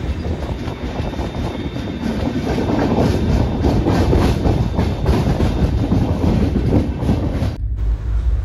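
Steady, loud rumble and rhythmic clatter of the Devagiri Express running on its tracks after leaving a station in India, heard from inside the moving train, continuous throughout before a brief dip near the end.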